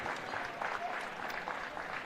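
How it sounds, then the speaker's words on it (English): A family applauds in the stands at a women's college basketball game, producing steady, fairly faint clapping that blends into the soft murmur of the gym crowd for a couple of seconds. "The Steinhauers applauding their daughter and sister."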